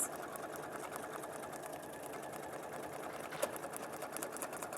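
An Elna 782 sewing machine stitching a seam through fabric, a steady rapid mechanical whir and needle chatter running continuously and close, with no speech.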